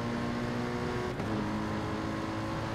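Race cars drive through a turn on a circuit, engines droning with sustained tonal notes and a brief shift in pitch midway, heard at moderate distance with no voices.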